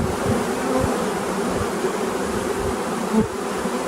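Honeybees fan their wings inside an opened hive, making a dense, steady buzzing drone close up that runs unbroken, with no voices.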